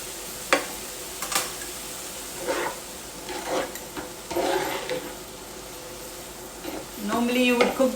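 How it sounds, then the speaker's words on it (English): Onions frying in oil with cumin sizzle softly in a pan while a utensil stirs and scrapes in irregular strokes, with someone talking over the cooking. "So oil, cumin, onions, and we're going to cook it for a bit."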